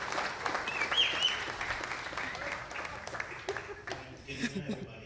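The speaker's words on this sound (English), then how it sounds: "get Robert a round of applause" An audience at an IGNYT event in Trinidad and Tobago breaks into sustained applause, dense clapping that swells and then thins over several seconds, with a voice briefly over it.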